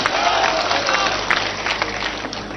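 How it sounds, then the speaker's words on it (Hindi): A crowd at a political rally for Kamal Nath breaks into loud, dense applause and cheering that holds steady throughout the short stretch. "जोरदार तालियों से आदरणीय कमलनाथ जी का स्वागत करिएगा।"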